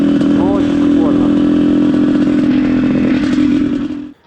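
An IZh Planeta Sport 370 motorcycle engine drones loudly and steadily up close while riding, with a few quick rev changes early on, then cuts off abruptly at the end.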